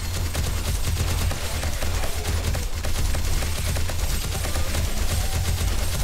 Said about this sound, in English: I mean, it is a minigun